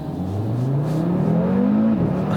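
A 2019 Audi RS3 pulls away hard on launch control, its engine note rising steadily in pitch as it accelerates, loud and close, with a brief dip near the end as it shifts gear.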